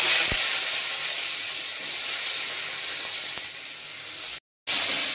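Onions dropped into hot white oil and ghee give a steady, loud hiss and sizzle with a brief clatter at the start, continuing alone before a short break of silence.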